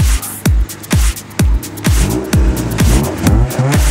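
A 1.4 litre car engine revs hard in rapid repeated bursts, close and loud, each blip rising and dropping, quickening toward the end over a rough idle.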